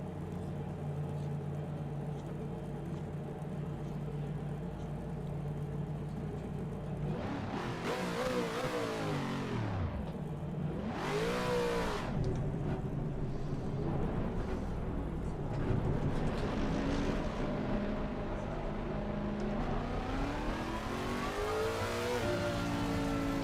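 A race car engine in the Le Mans Ultimate racing sim drones continuously, with rising and falling revs and two sharp swoops mid-lap as gears shift, heard alone without talk.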